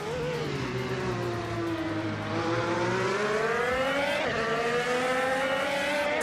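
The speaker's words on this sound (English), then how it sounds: "Gary 17 is driving a Chevrolet IndyCar and is currently in 5th place." Chevrolet IndyCar engines racing in a video game, a loud continuous high-pitched drone whose pitch sweeps up and down through gear changes, with several engines layered together and no talking.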